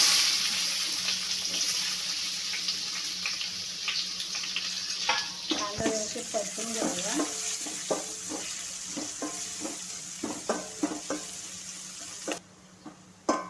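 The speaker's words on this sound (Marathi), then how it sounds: "बारीक चिरलेला कांदा टाकायचा" Finely chopped onion frying in a pan with a pinch of asafoetida, while cooking palak phadphad with white peas. A steady soft sizzle runs throughout, and clinking stirring strokes grow busier toward the end.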